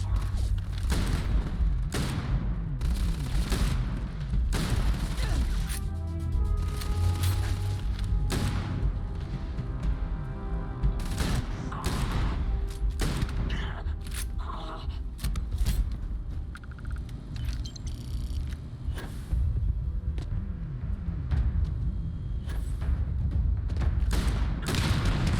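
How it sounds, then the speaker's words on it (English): An explosive shotgun blasting in a video game, loud repeated booming shots with rumbling thuds throughout a chaotic firefight, blasts spaced irregularly over a steady din. "I just delete a few people with an explosive shotgun"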